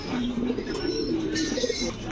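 Steady fancy-breed pigeon cooing on a pigeon farm fills the clip, a low continuous murmur with faint higher chirps over it, close and fairly loud with no talking.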